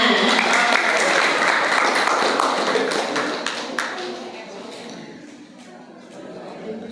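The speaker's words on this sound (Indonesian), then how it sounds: "Tepuk tangan sekali lagi buat pasangan Onci dan Nana." Dense applause from an audience at a Ramadan fast-breaking gathering, following a duo's song performance, loud at first and then thinning out into scattered claps, with a voice mixed in.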